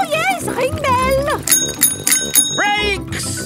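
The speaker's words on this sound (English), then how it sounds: "Ring your bell!" A cartoon children's bicycle bell rings a few bright times in the middle of a safety ride, mixed with lively children's voices and background music.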